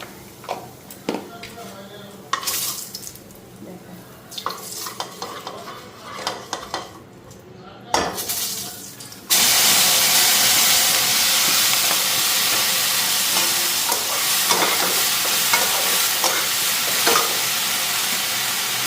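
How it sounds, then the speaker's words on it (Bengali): Okra frying in a pan at a crowded outdoor picnic cookout, first with intermittent stirring and scraping, then a loud, steady sizzle from about nine seconds on. Some talking is heard over the cooking. "তো এখন এদিকে ভেন্ডিগুলি ভেজে নিই"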